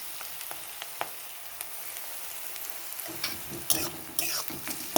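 Garlic and onion fry in a pan for homemade vegetable pasta, a soft sizzle with scattered utensil taps that swells into louder, busier stirring and frying toward the end, with no voices.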